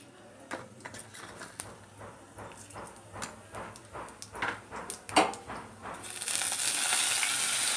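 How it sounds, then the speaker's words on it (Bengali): Dried red chillies, bay leaves and five-spice seeds hit hot oil in a home kitchen pan, giving scattered crackles and pops that swell into a loud, steady sizzle over the last seconds, with no talking. "তেলে শুকনো লঙ্কা, তেজপাতা আর হচ্ছে কি 5 ফোড়ন, দিয়ে দেবো।"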